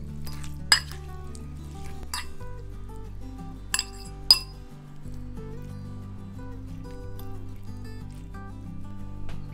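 A fork or spoon breaks up cooked mackerel in a dish, giving a few sharp clinks of metal on the dish over a low steady background hum, with quiet scraping between them.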